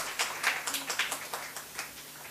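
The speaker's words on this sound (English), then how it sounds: "A big round of applause for all the contributors and the editor." Scattered, light clapping from an audience at a seminar book release, a thin run of separate claps rather than a full ovation, fairly soft and distant.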